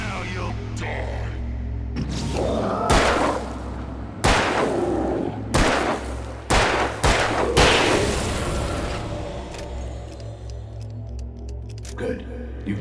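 Gunshots in Alan Wake: a string of sharp, loud bangs spaced unevenly over a low steady drone, with a voice speaking between the shots.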